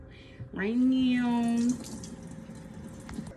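Cold tap water runs over fresh figs being washed, a steady splashing stream with a brief high squeaky tone near the start.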